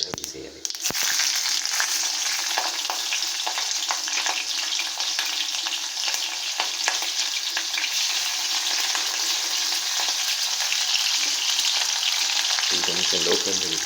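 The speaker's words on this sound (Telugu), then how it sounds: "కొద్దిగా ఆవాలు వేసుకున్నాక అవి చిట్పట్ అంటున్నప్పుడు మనం మిర్చి కూడా అందులోనే వేసేయాలి." Mustard seeds and green chilies splutter in hot oil on a low flame: a loud, continuous close-up sizzle with dense crackling pops, starting with a sharp clatter and running steadily until it thins near the end.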